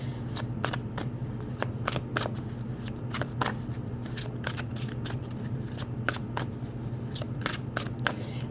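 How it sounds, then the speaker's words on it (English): A thick, stiff deck of oracle cards is shuffled repeatedly by hand, giving crisp riffling and flicking bursts in an uneven rhythm, close and fairly quiet over a steady low hum. "This deck is a little hard to shuffle."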